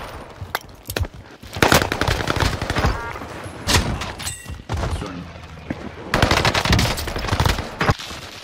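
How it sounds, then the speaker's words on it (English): Rapid automatic gunfire in a first-person shooter video game, loud bursts of repeated shots with thumps and pauses between volleys, continuing throughout. "I'm under fire!"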